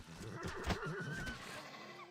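A horse in the video game Shroud of the Avatar gives a single close, clear whinny with a rising and falling tremble, standing alone over quiet game ambience.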